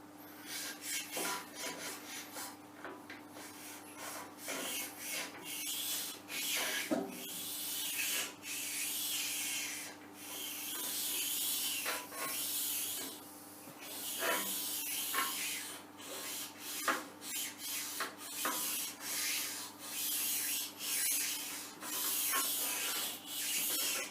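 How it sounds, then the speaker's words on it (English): A sharpening stone rubs back and forth on a centre lathe in repeated quiet rasping strokes, a faint, steady scraping with short pauses and no talking. "I'm just using my thumb as a guide so the stone's not quite rubbing on the rack."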